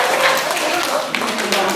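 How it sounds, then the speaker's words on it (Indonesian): A classroom group applauds together, a steady dense wash of many hands clapping close by that holds evenly for the whole moment without pause. "Ini tepuk tangan buat kita semua ya."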